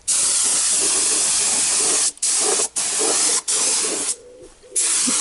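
An aerosol can sprays onto a car's power steering reservoir in a garage, loud close hissing bursts in several long blasts separated by short breaks.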